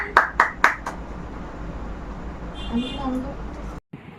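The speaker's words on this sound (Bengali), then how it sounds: "হাততালি হাততালি হাততালি" Three quick, sharp hand claps ring out together at the start, then give way to steady indoor room noise.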